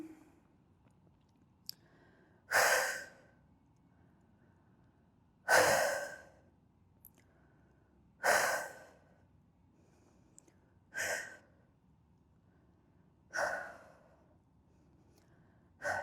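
Six deep breaths come at a slow, even pace during a home shoulder workout, each a strong close breathy exhale with quiet pauses in between and no talking.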